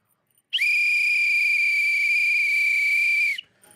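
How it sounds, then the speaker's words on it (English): A referee's whistle during an NFL game between the Kansas City Chiefs and Baltimore Ravens, one long, loud, shrill blast held for about three seconds before cutting off. "Peyton, I done blew the whistle again."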